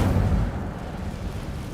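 A fire spell in Hogwarts Legacy goes off with a deep, booming burst that is loudest at the start and then rolls on as a low rumble for under two seconds, heard alone with no talk.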